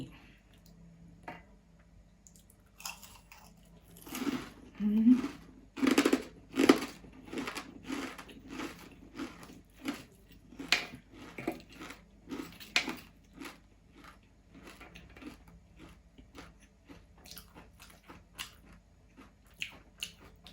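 Crunchy salmon som tam with fried chili being eaten up close, a run of loud crisp bites and chewing crunches in bursts that gradually thin out into quieter chewing, with no talking.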